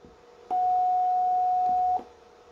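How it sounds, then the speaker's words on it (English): A breadboard synthesizer kit from a 2021 electronic sound advent calendar sounds a single steady sine-wave tone, clear and pure, held for about a second and a half before cutting off, with faint clicks at start and stop. "So if I switch to the sine wave."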